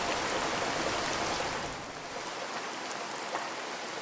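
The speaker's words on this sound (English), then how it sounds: "Rain and frogs? Feels peaceful, huh?" Rain falling in an animated jungle scene near a cozy cottage, a steady dense hiss of drops that eases slightly midway and carries on alone at moderate volume.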